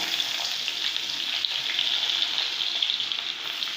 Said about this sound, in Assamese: এয়া মই মাছৰ তেলতে পিঁয়াজ দিছোঁ।